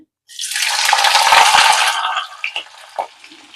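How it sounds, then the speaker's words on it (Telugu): Sliced onion and green chillies drop into hot oil for a bitter gourd gravy curry, setting off a sudden loud, broad sizzling hiss that holds steady, then fades and breaks into scattered crackles. "ఆయిల్ వేడైంది ఇందులో ఒక ఉల్లిపాయ కొన్ని పచ్చిమిరపకాయలు వేస్తున్నా"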